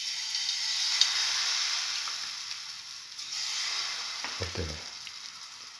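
Cinnamon banana pancake batter sizzles in hot oil in a frying pan, a steady close frying hiss throughout with a few brief stirring or clinking sounds near the end.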